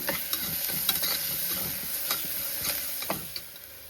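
Onions frying in a pan on a home stove while being stirred, a steady sizzle broken by scraping strokes of the spoon, close and alone without speech.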